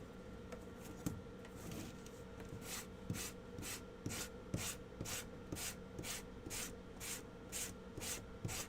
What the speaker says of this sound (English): I'm gonna get all the white out of my sandpaper to do the blue.